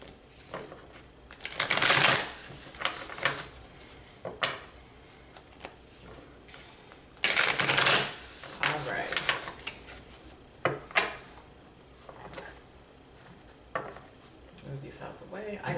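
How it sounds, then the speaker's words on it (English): Tarot cards are shuffled in loud, riffling bursts close by, separated by quieter taps and shuffling sounds. "let's go ahead and shuffle these cards a few more times."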